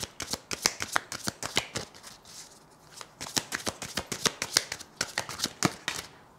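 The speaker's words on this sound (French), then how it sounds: "Je vais tirer encore une dernière carte, s'il vous plaît, pour clôturer ce tirage." Tarot cards being shuffled by hand for a reading, with two bursts of rapid, crisp riffling flicks separated by a brief pause, close and clear with no talking.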